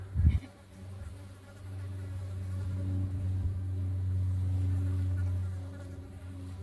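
Stinging insects swarm close around a hiker on Utah's Red Mountain Trail, their steady, droning buzz sustained and fairly loud throughout, with a brief thump near the start and no talking.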